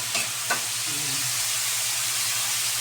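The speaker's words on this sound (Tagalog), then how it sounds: "Ilalagay na natin yung gulay mga kapatid. Yung kawali natin sumasayaw." Vegetables and meat stir-fry in a hot wok for pansit, a dense steady sizzle with a couple of sharp clanks from the utensil near the start, close and without any voices.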